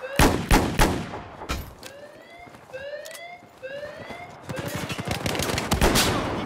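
Rapid bursts of gunfire in a Battlefield 4 match on the Hainan Resort map, several sharp volleys near and loud, separated by short gaps, with a rising siren-like tone sweeping between them.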